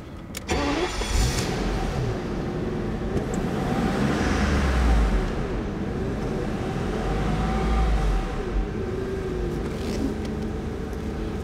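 A 1996 BMW 850Ci, a low-mileage car in mint condition, cranks over, catches, and settles into a smooth, steady idle, close and moderately loud, with a few light mechanical clicks.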